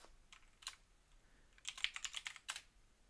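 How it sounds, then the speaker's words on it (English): Keystrokes on a computer keyboard while typing into a search bar: a few scattered taps, then a quicker burst of clicky keypresses, close and fairly soft. "So by typing in a table, I can see these."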